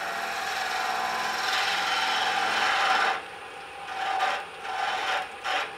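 Woodturning gouge cutting into a small spinning wooden birdhouse ornament on a lathe, a steady rasping shave that breaks into short separate scraping passes near the end.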